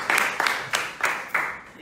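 Five sharp, evenly spaced bursts of clapping from an audience at a political event in Nigeria, each a quick crisp hit that decays briefly before the next, loud and close with no talk over them.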